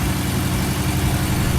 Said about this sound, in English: The way it barks upon the cold start is joyful though, especially with the sports exhaust on.